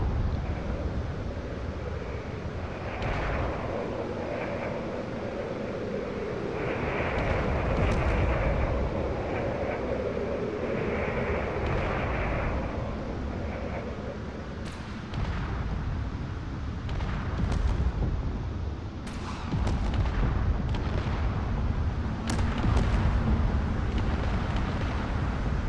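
Missiles explode around a frigate in a space combat video game, with a barrage of booms, sharp cracks and rumbling blasts over a continuous low drone, growing busier toward the end.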